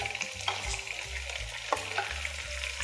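Tomatoes cooking in a pan with pasta, a soft steady sizzle with a few light stirring scrapes and clinks, fairly quiet.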